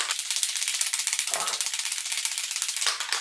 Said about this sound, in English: Says I've got to shake the can really well.